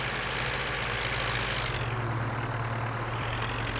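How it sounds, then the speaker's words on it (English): Old diesel tractor engine idling in Farming Simulator 19, a loud, steady low rumble that holds constant throughout with no voices over it. "such a lovely sound. Just listen to this. It really sounds like that old diesel engine you could imagine from"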